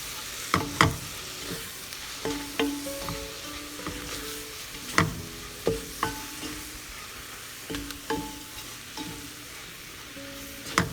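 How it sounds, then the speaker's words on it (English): Bouillon is stirred into browned, floured pork pieces in a hot pan, giving a soft background sizzle with repeated sharp scrapes and taps of the utensil at an uneven rhythm. "You want to stir the bouillon and mix it in."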